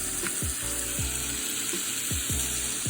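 Beef pot roast browns in a pot with a steady, loud sizzle, while soft clinks and scrapes repeat at intervals as the meat is handled.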